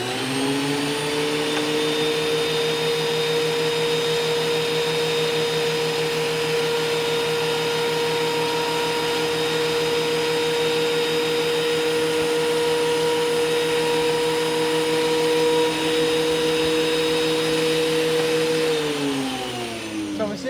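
A 12.5-inch wide planer running steadily while planing a wooden countertop, a loud continuous motor whine with a constant drone that winds down at the end.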